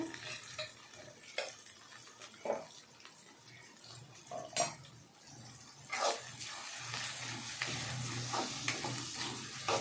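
Ginger garlic paste fries in a pan for chicken curry, a soft, low sizzle broken by scattered scraping and stirring knocks of a spoon, fairly faint and close.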